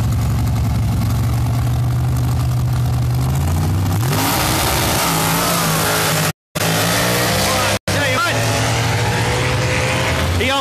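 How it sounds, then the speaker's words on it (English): A drag race car engine idles low at the launch, then roars up sharply to a loud, high-pitched rev, broken by brief dropouts and with voices underneath. "That guy kind of revved it up to the moon, didn't he, when he launched that thing?"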